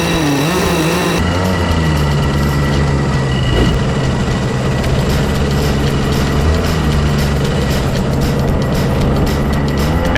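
Go-kart engines droning steadily as a field of karts rolls in formation toward the start line, a continuous loud low-pitched hum with overlapping engine tones that shift slightly in pitch.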